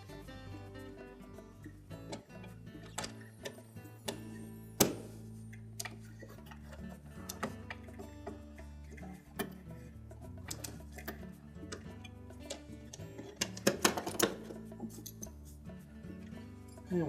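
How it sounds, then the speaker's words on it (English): A ratchet and socket loosens the bolt on a Frigidaire refrigerator's condenser fan motor, giving faint, steady, repetitive ticking clicks throughout with no talking. "So we'll just slide a ratchet and socket in underneath that motor."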